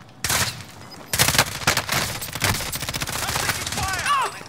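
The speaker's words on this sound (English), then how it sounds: "I'm taking fire!" Automatic gunfire in Call of Duty: Modern Warfare, dense rapid bursts of shots that start abruptly and keep going, loud and close, with players' voices shouting over it.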